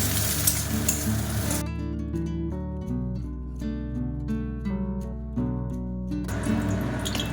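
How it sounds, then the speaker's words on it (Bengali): Egg frying with a little salt in a pan for egg bhujia, heard as a loud hissing sizzle at the start and end, with tonal background music filling the middle stretch. "অল্প একটু নুন দিয়ে নেব, দিয়ে ডিমটাকে ভালো করে ভেজে নেব।"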